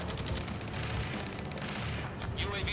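Dense, continuous gunfire from the video game Ace Combat 7 fills a busy combat scene, with rapid overlapping shots and booms alongside shouting radio voices.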